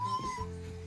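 A house cat giving a single short meow, close and fairly quiet, under a faint background of voices.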